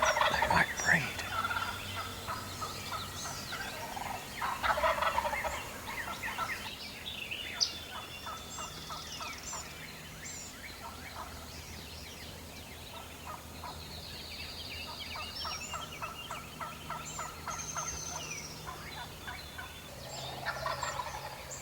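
Wild turkeys gobble repeatedly across a spring hunting morning, with rattling gobble bursts near and far, some louder and closer, others faint in the distance, with no one talking.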